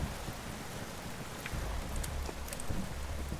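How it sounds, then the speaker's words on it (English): Steady rain falling in the Vintage Story game, a soft continuous hiss with scattered faint drips and small ticks over a low background rumble, no voices. "It's still raining, too, out there."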